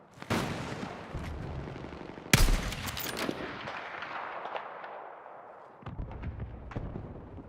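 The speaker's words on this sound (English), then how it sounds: "That was a very well placed nade." A grenade detonates in a battle-royale shooter like PUBG or Warzone: a sudden loud blast midway, preceded and followed by sharp gunfire cracks and a lingering rumbling tail, with no talking.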